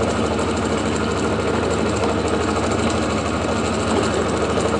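A pulse motor with 2 inch magnets spins at 778 RPM on a 31-volt supply, giving a loud, steady, rapid buzzing hum without a break.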